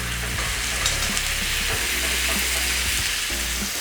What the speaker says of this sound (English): Now you can see the pan is smoking. Time to put in the beef brisket.